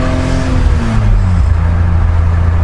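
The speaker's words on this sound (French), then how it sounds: "le bruit de ce moteur, c'est phénoménal. C'est 6 cylindres" A six-cylinder car engine runs loud and close, a rich steady drone whose pitch slowly drops as it settles.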